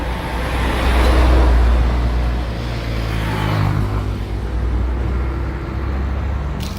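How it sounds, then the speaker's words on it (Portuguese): A bus passes along a road beside a farm field in Rio de Janeiro's western zone, its low engine rumble swelling and then fading through steady traffic noise, loud and close with no talk. "E vai passar um ônibus agora."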